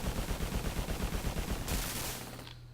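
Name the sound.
rapid gunfire in the video game Urban Strike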